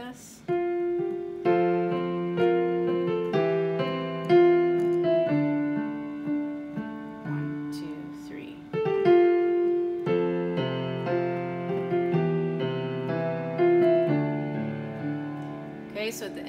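The left-hand piano part of a song is played as steady, sustained low chords under a simple melody. The piano is clear and close and carries on without break for the whole passage.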